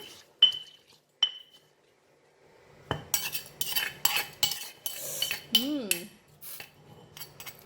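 Lime and chilli dip for prawns mixed in a bowl, opening with two bright clinks, then quick rhythmic spoon scraping and tapping against the bowl, close and busy, with a brief hum-like voice sound partway through.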